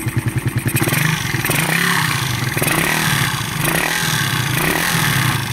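A motorcycle engine with low compression idles with a rapid pulsing chug, then revs up and down repeatedly, loud and close.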